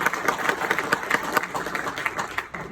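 Audience applause fills the room at a talk: a steady wash of many hands clapping at moderate loudness, continuous throughout with no pause.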